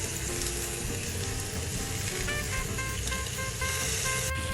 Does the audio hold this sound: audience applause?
no